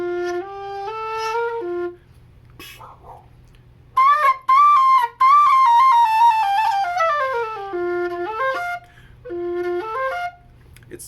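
A Reyburn brass low F whistle plays a slow melodic line of sustained, resonant notes with a few short breaks, loud and close, alone.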